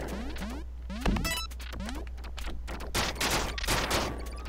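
Rapid gunfire from Duck Game, the video game, crackles in dense overlapping bursts mixed with chirpy game effects, fairly loud and continuous throughout.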